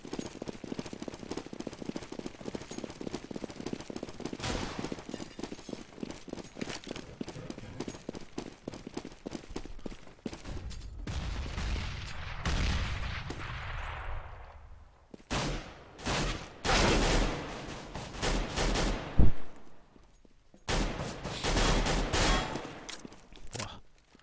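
Counter-Strike gunfire on the de_nuke map during a professional esports match, rapid automatic bursts at first, then scattered single shots and short volleys with footsteps and game noise in between.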